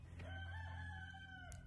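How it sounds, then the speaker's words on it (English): A single rooster crows once in a long drawn-out call, moderately distant, over a low rumbling outdoor background in Lyons, Colorado. "I'm actually waiting for this rooster to crow over here."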